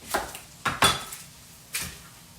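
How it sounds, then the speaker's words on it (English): A knife cutting an onion on a board, four sharp separate chops in an irregular rhythm, close and fairly crisp, with no voices. "I'm going to cut this onion up here"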